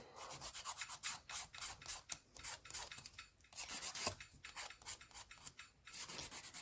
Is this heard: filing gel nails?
yes